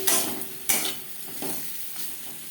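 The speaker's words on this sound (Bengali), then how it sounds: "কাঁকরোল হালকা করে ভেজে নেব" Kakrol (spiny gourd) pieces tossed with turmeric and salt, lightly frying in a pan, with a soft sizzle and a couple of sharp scraping stirs near the start, close and fairly quiet.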